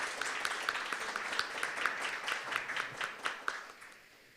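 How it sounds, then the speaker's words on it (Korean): Audience applause at the launch ceremony of a startup program in Seoul's Guro industrial district, a steady indoor clapping of many hands lasting about four seconds before tapering off. "위원장님 수고 많이 하셨다고 큰 박수 한번 부탁드리겠습니다"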